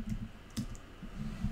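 Keys are tapped on a computer keyboard to enter a command on a Debian system, giving a few soft, close clicks at an uneven pace over quiet room tone.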